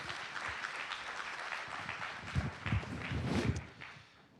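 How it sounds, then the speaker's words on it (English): A modest audience at a panel on social justice activism claps for the people on stage, scattered and fairly faint, with a few louder individual claps standing out near the end before it fades. "let's give these folks a round of applause"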